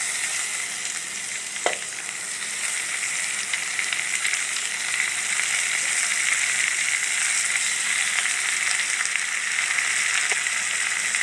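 Quarter kilo of marinated chicken frying in a pan with shallots and dried red chilies for Pallipalayam chicken, a steady loud sizzle throughout with a few brief stirring clinks, no talking.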